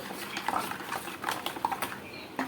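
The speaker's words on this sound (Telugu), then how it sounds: "ఒక్కసారి ఇది కలిపేసేసుకుందామండి మొత్తం కలిపేసేసుకొని" A spoon stirring sugar into mango sago in a bowl, producing light clinks and scraping taps against the dish in an irregular rhythm, close and fairly quiet, with no talking.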